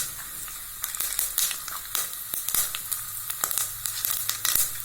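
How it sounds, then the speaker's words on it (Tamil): Urad dal and mustard seeds fry in hot sesame oil, giving a steady close sizzle with dense crackling and sharp pops scattered throughout, and no voices. "உளுத்தம்பருப்பு போட்டுடலாங்க."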